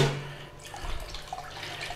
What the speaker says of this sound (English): straining off our pork juices and our water, our stock